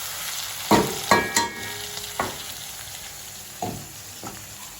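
Onions fry in a pan for spicy Jaffna-style chicken curry, a close, steady sizzle punctuated by several loud scraping stirs of a spoon against the pan.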